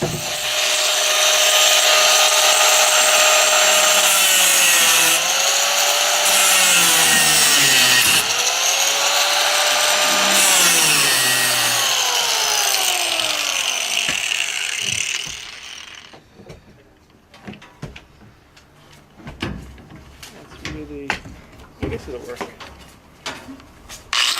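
A power tool cuts through a metal bolt on an aquaponics farm setup, giving a loud, close, whining grind with shifting pitch for about fifteen seconds before it stops and leaves scattered clicks and handling noises.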